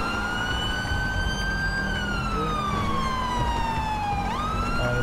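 Police car siren in GTA 5 roleplay: a loud, continuous wailing tone that slowly sweeps down and then jumps back up, over steady road and engine rumble, with no talking.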